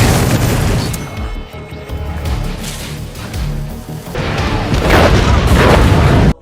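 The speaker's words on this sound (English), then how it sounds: "Just as the dynamite explodes" A dynamite-laden tanker truck blows up in a Resident Evil film scene, a loud sustained roaring explosion with crashing debris and rumbling that swells again toward the end before cutting off abruptly.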